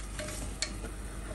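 Minced meat with finely chopped fried onion sizzling and being stirred in a pan, a steady low frying hiss with a few soft scraping stirs and one brief clink, heard alone without talk.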